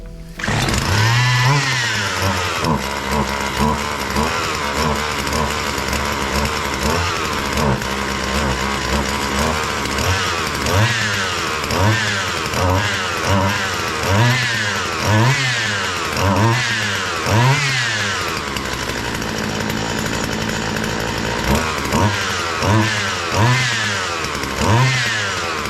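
A Husqvarna 137 chainsaw runs loud and close after a cold start, its two-stroke engine idling with repeated rising and falling throttle blips in a rough rhythm and no talking.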